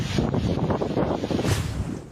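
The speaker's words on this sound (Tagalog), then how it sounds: "ganito pa kalakas ang hangin sa bayan ng Sabtang sa Batanes" Strong typhoon wind roars in Sabtang, Batanes at dawn, a loud continuous gusting rush with heavy buffeting against the microphone, steady throughout and easing slightly at the end.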